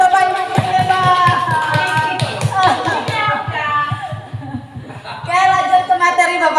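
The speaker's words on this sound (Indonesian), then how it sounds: "tepuk tangan buat Bapak Ibu hebat" Teachers at an elementary school training session clap rhythmically in a quick group pattern, crisp hand claps with light chuckles and laughter mixed in, while a speaker's voice carries over and between the clapping.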